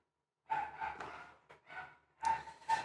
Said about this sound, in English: Sorry, my dogs are going crazy.